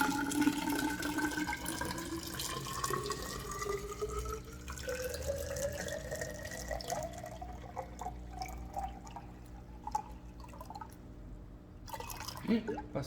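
Water is poured from a one-litre container into a measuring container to fill 500 ml, the gurgling stream rising steadily in pitch as the level climbs. The stream then stops, leaving a few drips and small splashes.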